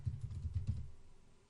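Typing on a computer keyboard while setting up a VMware vSphere 6.0 ESXi home lab: a quick run of soft, close key clicks, then a pause and one final louder tap.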